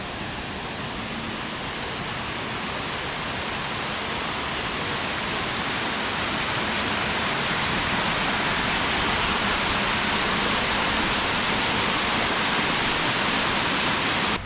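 A waterfall in Switzerland roars as a dense, steady wash of rushing water that grows slightly louder over the span, with no voices.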